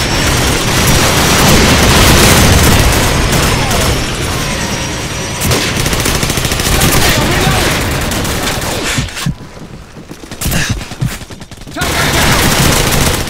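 Rapid bursts of Skorpion and Uzi submachine gun fire in Call of Duty 4 team deathmatch crackle almost continuously, loud and dense, with a short lull before the shooting resumes.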